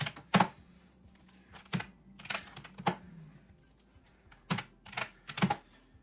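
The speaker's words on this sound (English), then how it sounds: "If I can type it correctly." Keys on a computer keyboard are tapped in scattered single strokes and short clusters, close by and fairly quiet, with gaps between presses.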